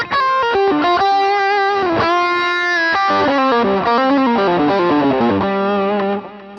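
Warm, high-gain Dumble-style electric guitar tone from a Line 6 Helix: a loud, sustained melodic lead line with singing harmonics and smooth legato notes, played alone with no talking.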